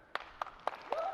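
A conference keynote audience clapping in a few short, evenly spaced bursts, faint and thin, with a voice beginning at the very end.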